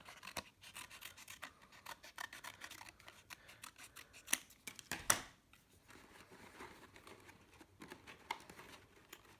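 Scissors trimming a curve while completing a sculptural form, heard as a close run of rapid snipping and rasping cuts, with a few louder snaps near the middle before it settles into softer scraping.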